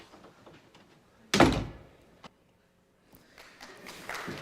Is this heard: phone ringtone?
no